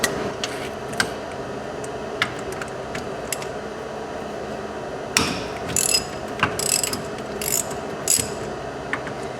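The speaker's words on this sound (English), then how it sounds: "Just using a 1/2-inch wrench to break these loose." A 1/2-inch ratchet wrench works loose the brake pad bolts on a Polaris Ranger 500, giving close, irregular bursts of metallic clicking over a low mechanical background.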